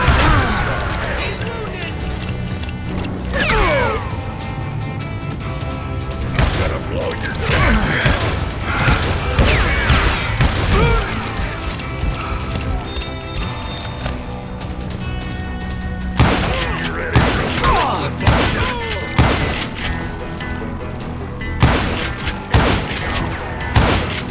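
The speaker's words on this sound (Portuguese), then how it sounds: "Tô levando tiro de alguém lá de cima, eu não sei de onde é." Loud, dense gunfire from the video game Call of Juarez, with rapid bursts and booms over a busy mechanical soundtrack, intense throughout.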